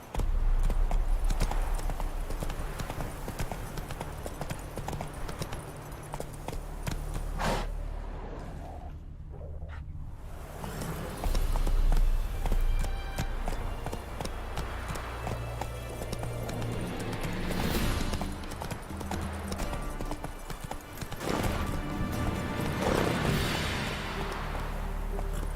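Hooves of Roach, a horse in The Witcher 3, clop in a steady galloping rhythm, loud and close, with one brief drop in the middle before the pounding resumes and a voice speaks to the horse.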